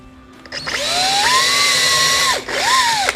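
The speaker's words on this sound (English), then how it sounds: "we're going to drill a hole" A power drill bores a 1/8 inch hole through a metal guard rail clip, two bursts of high whining motor that rise, hold steady and drop off, close and clear.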